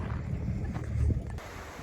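Steady low rumbling wind buffets the microphone outdoors on a dirt road, swelling briefly stronger before easing, with no voices.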